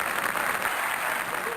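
A television studio audience applauds steadily, a dense wash of clapping that holds at an even level for a moment with no voices standing out.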